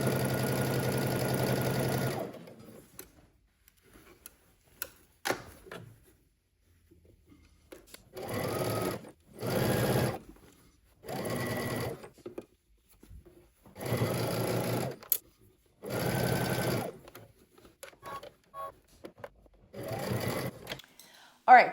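A sewing machine stitches a dress seam in several bursts of fast, steady whirring and clattering, each a few seconds long, with pauses and soft handling noises between them. A person talks in places.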